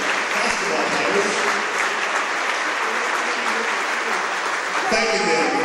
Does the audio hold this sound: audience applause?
yes